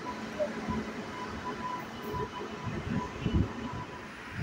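An unreserved special passenger train bound for Tuticorin pulls into a platform at Chennai Central station, its low rumbling and clattering rolling steadily beneath busy station ambience, with a couple of louder knocks near the end.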